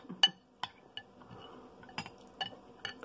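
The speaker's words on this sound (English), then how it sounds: "I cut it against the bowl" A spoon cuts a dill pickle against the side of a bowl, giving sharp, sparse clinks and scrapes of metal on the bowl spaced across a few seconds. The sounds are close and quiet, with no talking.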